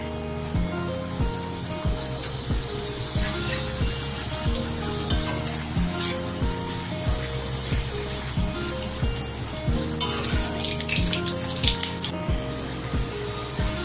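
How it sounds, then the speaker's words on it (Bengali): Luchi puffing in hot oil, a steady bright sizzle running throughout with repeated soft knocks and scrapes of a utensil in the pan, close and continuous. "ফুলকো ফুলকো লুচি, তো চলো ভেজে নিয়ে আগে"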